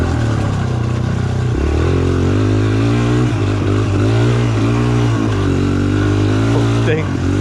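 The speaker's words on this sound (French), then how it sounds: "ça patine tout le long, vous en rendez pas compte mais je suis en burn en permanence" Suzuki DR-Z 125 dirt bike held at steady high revs as its rear wheel spins continuously on greasy, slippery ground, the close engine note wavering slightly throughout, with a rider's voice over it.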